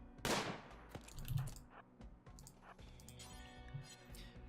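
Gunfire from several colonists in the colony-management game Rimworld, modded version Alpha 17: a loud burst near the start, then scattered lighter shots and clicks over a low game backdrop.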